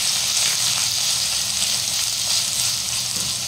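Grated onion dropped into hot oil with curry leaves, fenugreek and mustard seeds, giving a loud, steady close-up sizzle and hiss that runs unbroken throughout, with no talk.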